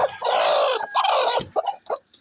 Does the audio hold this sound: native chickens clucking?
yes